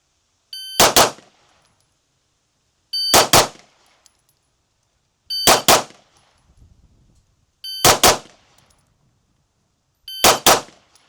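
Rapid pistol fire at steel targets: five separate bursts of shots, each a quick cluster of sharp cracks followed by ringing metallic clangs, with brief silences between bursts.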